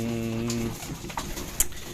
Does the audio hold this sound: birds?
yes